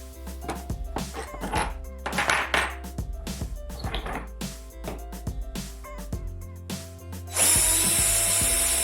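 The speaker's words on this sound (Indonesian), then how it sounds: "Putar dengan obeng, fitting akan terlepas dengan mudah" A fitting being turned loose with a screwdriver: a series of close metallic clicks, scrapes and ratcheting turns in uneven bursts, followed by a sudden loud, steady hiss near the end.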